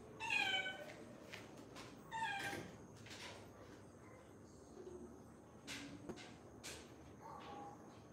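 A cat meows indoors in a room with a drawing studio feel: several clear, fairly close meows repeated at irregular intervals, with soft background rustle and faint pigeon-like cooing, no speech.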